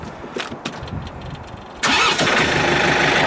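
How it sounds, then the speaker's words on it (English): Tractor engine being started on a cold morning beside a large loader bucket: a short cranking struggle, then the engine catches abruptly and settles into a loud, steady idle close by. "we'll get the tractor warmed up, let him warm up for a few"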